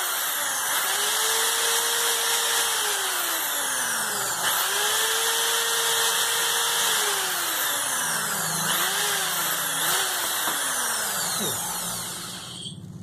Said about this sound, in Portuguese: Eu estou furando aqui só para você ver